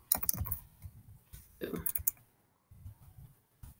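Typing on a computer keyboard in quick bursts of clicking keystrokes separated by short pauses, close and clear, with a faint voice briefly underneath.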